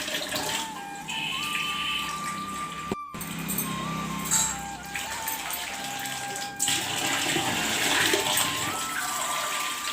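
Water poured into a cooking pot in an Odia home kitchen, a continuous splashing, running-water wash lasting about ten seconds, close and steady with slight surges, no talk.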